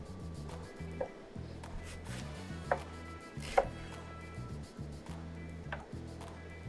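A knife chops leek whites into fine julienne on a cutting board, giving rapid, steady, close taps with a few sharper knocks and no talking.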